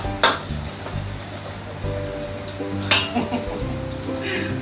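Pounded spices for a chicken, turmeric and ginger dish sauté in hot oil with a crackling sizzle and a few louder spits, while a person talks over the cooking.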